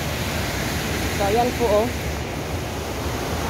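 Rushing water flows down from the mountain in a steady, broad roar, close and unbroken, with a person speaking briefly over it partway through.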